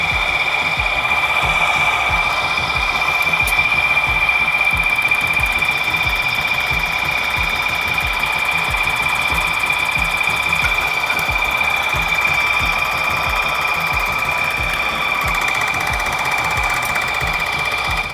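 A Titan Elite 3000 airless paint sprayer pump runs steadily, building pressure with a continuous mechanical whine and rapid low pulsing throughout, loud and close with no talking.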